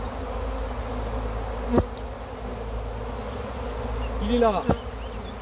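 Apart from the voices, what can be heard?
swarm of honeybees buzzing at a hive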